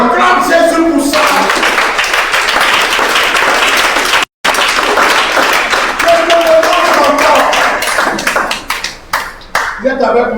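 A church congregation applauds and cheers during a sermon, sustained dense clapping filling the room for several seconds with a brief break, tapering off unevenly toward the end with voices mixed in.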